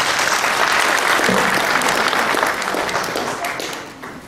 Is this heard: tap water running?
no